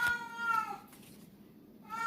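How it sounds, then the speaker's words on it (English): A cat meows close by, a couple of short, clear calls at the start and again at the end, with quiet pauses between. "No, it's a cat."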